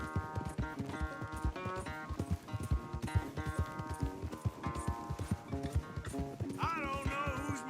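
Horse galloping during a race in Red Dead Redemption 2, steady clip-clop hoofbeats running throughout with a brief whinny near the end, all beneath a busy layer of game music.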